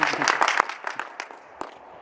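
Brief scattered applause from a small audience at a Lucky Man Cup draw ceremony, a few loud claps at first that thin out and fade within two seconds.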